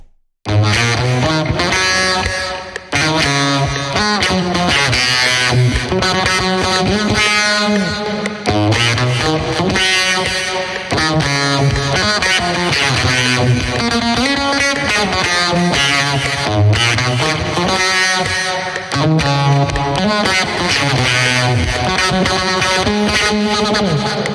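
A synthesized guitar tone built in FL Studio 20 with phase distortion and amplitude processing plays a continuous distorted, buzzy riff of sustained chords and notes, loud and alone with no talking.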